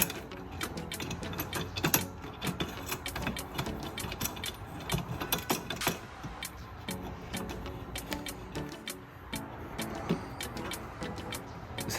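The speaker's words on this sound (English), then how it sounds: "Just hand tighten it to where it starts getting snug" A nut being hand-tightened onto a bolt while mounting a BooneBox PowerPole mount, giving dense, irregular metallic clicks and ratchet-like ticks that continue for the whole stretch, close and fairly loud, with no talking.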